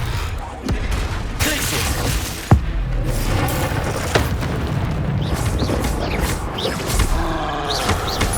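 Expelliarmus spell cast in Hogwarts Legacy, set in dense combat noise with a sharp burst near the middle and another later, alongside continuous rumbling and clashing effects.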